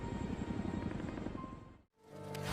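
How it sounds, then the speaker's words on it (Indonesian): A steady whirring aircraft engine drones overhead, fairly loud, then cuts off abruptly and rises again, in a zombie film scene. "Tampak dari kejauhan ada pesawat yang melintas di atas mereka."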